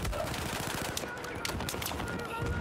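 Rapid automatic gunfire rattles through a Battlefield 4 Naval Strike carrier assault match, dense bursts of shots close and continuous over a couple of seconds, with a voice speaking faintly underneath.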